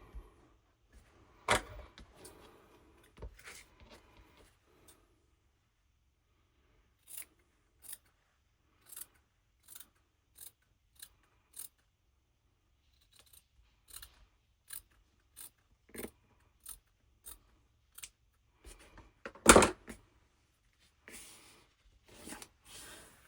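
Scissors cutting paper while assembling a Christmas journal, with sharp, close snips spaced in irregular bursts and pauses, a few louder crunchy cuts among them, and no one speaking.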